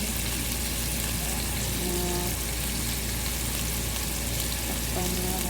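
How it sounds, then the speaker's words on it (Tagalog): Chicken sautés in a soup pot with a dense, continuous sizzle and hiss close up, faint stirring and clinking underneath. "Sinangkutsa muna natin para masarap."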